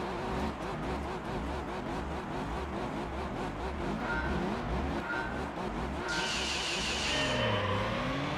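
Suzuki Alto engine in a racing video game, revving steadily and loudly with wheel spin throughout, with a brighter burst of engine noise near the end, and no talking over it.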